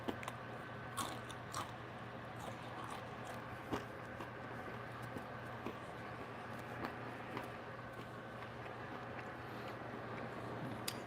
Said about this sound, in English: the bacon, you hear that crunch?